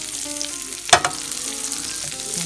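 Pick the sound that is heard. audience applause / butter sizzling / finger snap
butter sizzling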